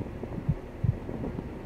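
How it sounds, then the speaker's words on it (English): A slow heartbeat thumps softly under a steady low hum, with two or three dull beats spread through the clip and no voices. "Listen to your heartbeat, how it makes you feel."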